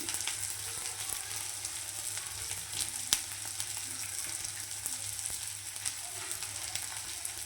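Edible gum (dink) frying in ghee for laddoos, a steady close sizzle with fine crackling and a few sharp pops, no voices.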